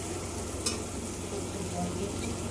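Spice mixture stirred and frying in a pan, a steady soft sizzle throughout with a single brief scrape of the utensil, heard close and fairly quiet.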